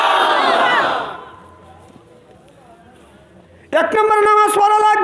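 A large crowd roars Allahu Akbar in unison in answer to a takbir call at a Bengali Islamic sermon, loud and reverberant. It fades into near silence before a voice cuts back in.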